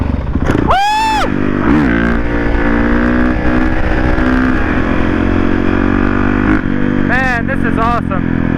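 Honda CRF450R dirt bike engine droning loudly and steadily while riding through a canyon near Santiago, Mexico, with a couple of sharp whooping or shouting voices over the engine noise.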